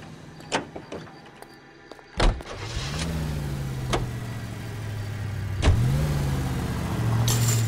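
A car in LA Noire starts up after a few door clunks and clicks, then its engine idles and revs with a steady mid-pitched hum, rising again near the end.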